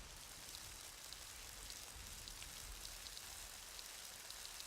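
Steady rainfall in the survival video game Scum, a constant hiss of drops on surfaces with occasional brighter individual drop ticks, heard alone without voices throughout.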